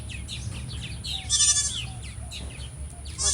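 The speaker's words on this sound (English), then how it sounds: "He's a good watch goat, if you will." A farm goat kept as a watch goat lets out one clear, fairly loud bleat in the middle, with quieter bleat-like calls and light outdoor chirps around it.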